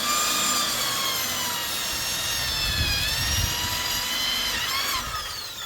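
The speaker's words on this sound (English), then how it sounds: "he's going through here, drilling that pattern on this cocoa lumber right now" A power drill bores a pattern of holes through cocoa lumber used for concrete home-building forms. It gives a loud, steady whine with a rough grinding edge that runs without a break and rises in pitch briefly near the end.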